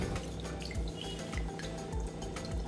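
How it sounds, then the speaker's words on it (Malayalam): Rice being rinsed in water before cooking for lunch, a steady close wash of sloshing and dripping water that runs continuously with no talk. "ആദ്യം തന്നെ ചോറിനുള്ള അരി കഴുകിയെടുക്കാം"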